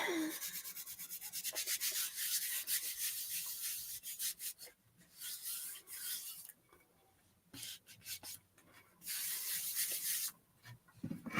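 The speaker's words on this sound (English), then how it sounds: "I knew I was going to be sanding" Hand sanding on a craft project, heard as close, gritty rasping strokes in uneven bursts with short pauses between passes.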